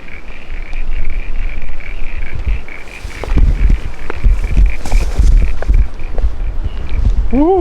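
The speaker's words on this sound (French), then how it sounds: "je m'apprête à traverser un petit endroit marécageux avec des grenouilles partout." Frogs croaking all around a small marshy area, a dense chorus of rhythmic croaks and trills, loud and close, with rustling footsteps through the wet ground.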